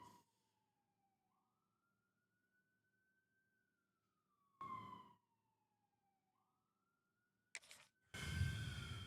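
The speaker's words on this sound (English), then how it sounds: "A siren in the background." Faint, distant siren wails slowly up and down in two long sweeps behind near silence, interrupted by short bursts of nearby noise and a voice near the end.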